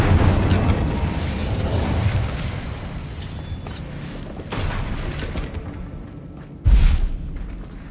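Fire spell blasts go off in the video game Hogwarts Legacy during a fight, with a rumbling burst near the start, another mid-clip and a sharp loud boom near the end, over low background rumble.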